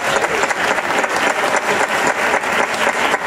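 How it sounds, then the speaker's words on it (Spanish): A full audience claps steadily at a flamenco festival night in Puente Mayorga, a dense, continuous burst of many hands that stays loud and close throughout. "y pido un aplauso para él"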